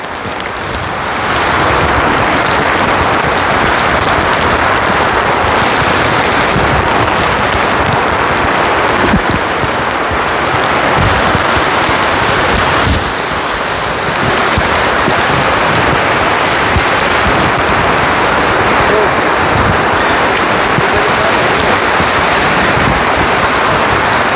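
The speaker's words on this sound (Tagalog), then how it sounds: "Lalong lumalakas mga kabayan yung ulan." Heavy rain pours down steadily and loudly on muddy ground and grows stronger, a dense continuous roar with no voices over it.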